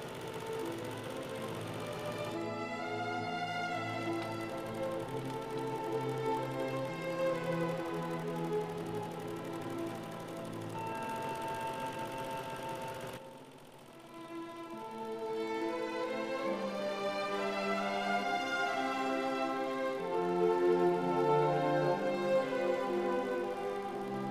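Sewing machine quilting the background of a trapunto quilt, a steady mechanical whir that runs throughout, briefly dipping near the middle before resuming, with no talking.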